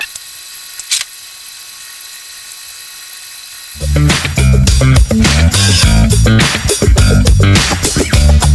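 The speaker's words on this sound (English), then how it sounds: "The hard bit is going to be drilling in there." Power drill whirring loudly in bursts under a car during a one-man V12 shooting brake build, after a quiet stretch with a single click.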